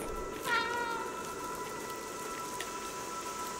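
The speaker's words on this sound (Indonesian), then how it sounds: "Press B tuh meow. Oh bisa meow meow guys" A cat meows once, briefly and fairly clearly, in the video game Stray, over a steady hum of game ambience.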